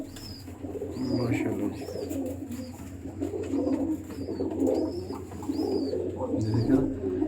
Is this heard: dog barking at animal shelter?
no